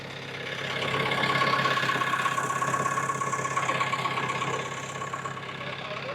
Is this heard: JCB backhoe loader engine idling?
yes